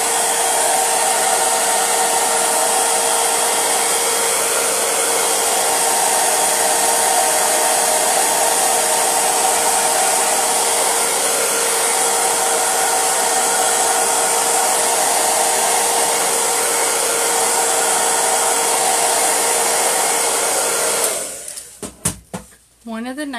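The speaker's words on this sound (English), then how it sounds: "I'm going to take the hairdryer and dry this" A hair dryer blows steadily on drying chalk paste, a continuous close whir that runs evenly for most of the stretch before clicking off into a few brief handling noises at the end.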